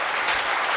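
Applause from an audience at a corporate keynote, a brief steady patter of clapping filling the room at moderate loudness, with no voices over it.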